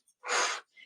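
A single soft, breathy exhale during a guided breathing exercise, close and quiet, ending with a faint trailing breath.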